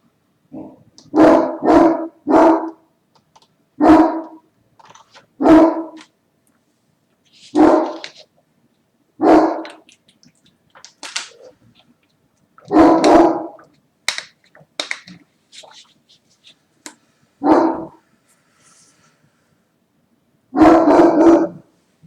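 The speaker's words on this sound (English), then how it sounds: "if the dog barks anymore, we're just gonna ignore it" A dog barks in short, loud bursts, some single and some in quick pairs, spaced irregularly over about twenty seconds with silence in between.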